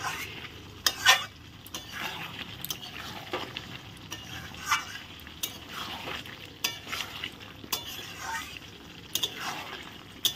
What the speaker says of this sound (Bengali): আলুগুলো দিয়ে ভালো করে নেড়ে চেড়ে নেব।